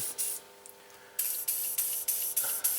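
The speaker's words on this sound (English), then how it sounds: "it might be a good idea now just to squirt some lubrication" Penetrating lubricant sprayed onto the seized brake caliper bracket bolts of a 2001–2005 Toyota RAV4, several short hissing aerosol bursts, one brief puff then a rapid series of close squirts.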